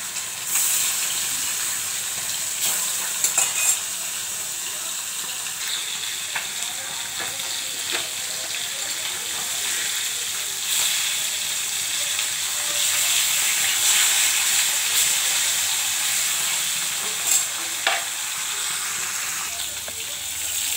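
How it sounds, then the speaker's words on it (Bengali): Chara pona fish rubbed with salt and turmeric sizzle steadily in hot oil, a continuous bright hissing crackle with occasional sharper pops and spits, close and even throughout with no talking. "এটা হচ্ছে চারাপোনা মাছ। এবার দিয়ে দিচ্ছি তেলে।"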